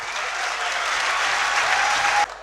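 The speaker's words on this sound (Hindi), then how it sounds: "मेरे साथ तालियों की गूंज में इस्तकबाल कीजिएगा जनाब अजहर फराग।" A dense crowd at a poetry mushaira in Dera Ghazi Khan applauds to welcome a poet, a loud, steady wash of clapping that drops off abruptly near the end.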